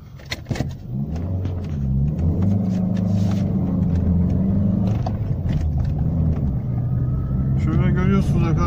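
A car engine revs and climbs quickly with sharp throttle response, a steady loud rumble rising in pitch through several seconds while someone talks over it.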